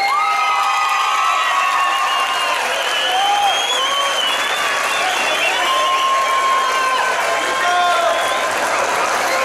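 A rodeo crowd at a bull-riding tournament shouts, whistles and cheers loudly and continuously, with clapping and high calls, including children's voices, layered through the dense crowd noise.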